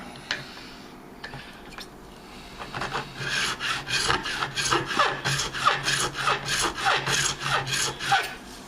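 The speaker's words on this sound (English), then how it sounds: "I'll just show you how I'm crowning it." A fret file crowning frets on a Warmoth guitar neck, a few light taps giving way to a run of rhythmic rasping strokes back and forth, close and steady.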